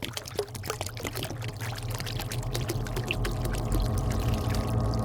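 Water poured from a canteen onto the floor around a doorway, a steady splashing pour that runs continuously for several seconds and grows slightly fuller toward the end, close and alone.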